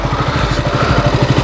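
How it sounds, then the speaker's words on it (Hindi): A TVS Apache motorcycle engine runs loud and close, with a steady low pulsing beat throughout. It sounds more like a running or idling engine than a distinct start-up. "ये देखो भाई की अपाचे, चलें चलो"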